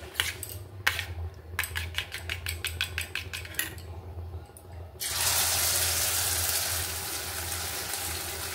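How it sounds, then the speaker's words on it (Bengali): A run of quick taps and clicks comes first, then an egg meets hot oil in a pan and breaks into a loud, continuous sizzle that carries on to the end. "এবার ডিমটা ভাজবো।"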